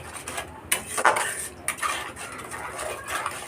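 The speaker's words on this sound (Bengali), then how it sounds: "সব মশলা এর মধ্যে দেওয়া হয়ে গেছে। এবার আমি এটাকে মিক্সড করব।" A spatula scrapes and knocks around a pan as spices are mixed, giving a close series of metallic clatters and scrapes with uneven rhythm.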